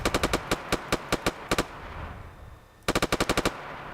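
A Mark 200 machine gun in the Arma video game fires two quick bursts of rapid, loud, evenly spaced shots, separated by a short pause of fading echo.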